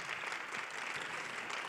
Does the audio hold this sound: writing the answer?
no